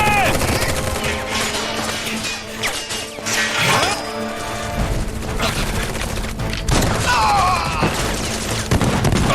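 Automatic gunfire from soldiers in Final Fantasy 7 Remake, with loud rattling bursts and sharp impacts mixed with game music and effects, continuing across the whole stretch.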